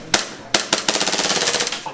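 Airsoft guns fire during an airsoft battle royale game: two sharp single shots, then a loud, rapid burst of about a dozen evenly spaced cracks, close by.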